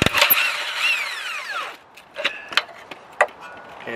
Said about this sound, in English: we're going to remove this bolt here, and it's going to be a 19 millimeter